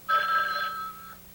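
A telephone bell rings once in an old television drama scene, a single bright trilling burst that fades out quickly against a quiet room hum.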